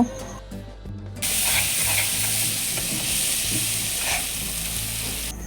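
Garlic paste with chili, coriander and turmeric powders frying in a pan, a loud continuous sizzle that erupts suddenly and carries on under stirring scrapes, close and without voices.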